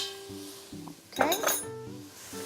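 Tomatoes and peppers are stirred in a pan with a utensil, giving a few clinks and scrapes of metal against the cookware, close and moderately loud, with a light sizzle around them.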